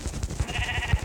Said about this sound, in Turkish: Aha koyun buldum. Koyunu öldürmeliyim önce.